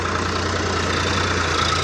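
A Sonalika tractor engine runs steadily at close range on a farm during paddy seedling work, a continuous loud low drone with a fixed hum and no voices.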